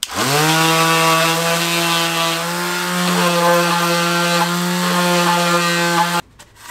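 A power grinder cleans an engine sealing surface on a BMW E39 V8, running steadily at high speed with a loud, sustained whine and rich harmonics, then abruptly cutting off near the end.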